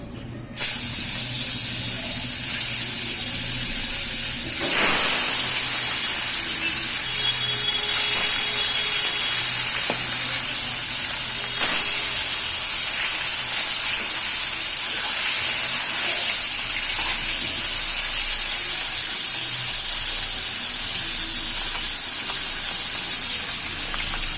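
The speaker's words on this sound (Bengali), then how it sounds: "এই ভেটকি মাছটা আবার মেখে নিচ্ছি, এটা একের করে ভাজবো" Bhetki fish fries in hot oil with a loud, steady sizzle that runs without a break, dotted with a few faint clicks and pops.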